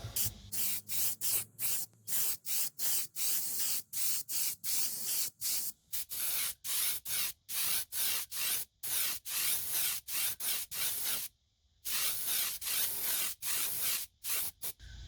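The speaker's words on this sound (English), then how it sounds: "I'm going to try to spray this straight on, then come back through and put some definition into the scales afterwards." Airbrush spraying violet paint onto a 200mm surface paddler fishing lure, in steady short bursts with brief gaps, close and loud, no talking.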